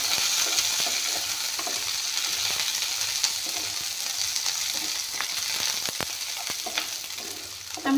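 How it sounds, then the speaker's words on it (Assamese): Bay leaves fry in hot oil in a pan with a steady, bright sizzle throughout, broken by occasional soft clicks and taps of stirring. "এইখিনি অলপমান ভাজি লৈ ল'ম।"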